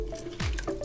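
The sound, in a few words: lemon being squeezed into cooking water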